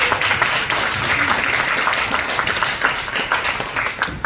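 Warm, dense applause from an audience at an alumni association gathering in Korea, loud and continuous with fluttering claps throughout and no speech on top.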